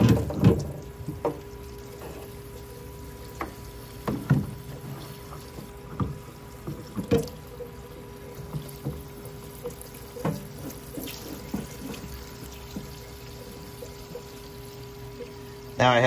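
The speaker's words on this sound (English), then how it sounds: "Now I have the solvent blowing up both ends of the tube." Solvent circulating and gurgling through a clogged fuel tank tube of an Innocenti Spyder, a steady watery pouring flow with scattered clunks and bursts, moderately close and continuous throughout.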